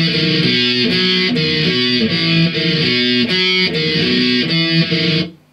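Distorted electric guitar plays the intro riff of a song, a few repeated notes in a steady driving rhythm, loud and up front before stopping cleanly.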